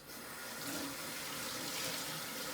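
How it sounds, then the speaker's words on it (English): Kitchen tap running as hands are rinsed under it, a steady faint splashing hiss of water heard alone throughout. "Let me just rinse my hands"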